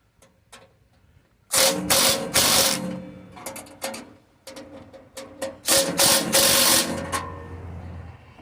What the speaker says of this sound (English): we're going to use the 7/16 wrench